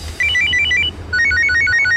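A mobile phone ringtone rings loud and close in two short bursts of repeating electronic tones, with a brief gap between them and no talking over it.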